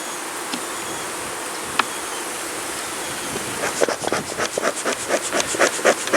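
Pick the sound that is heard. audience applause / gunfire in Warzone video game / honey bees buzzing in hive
honey bees buzzing in hive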